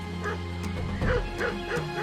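Hunting dogs chase escaped slaves on an island, heard as several nearby yips and bow-wow barks with whimpering tones over a steady low background.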